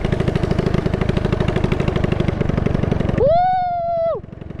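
A small Predator engine on a Honda dirt bike converted into a three-wheeler chugs close by with a fast, even putter. A loud, sustained tonal whoop breaks in briefly near the end, then the engine carries on alone.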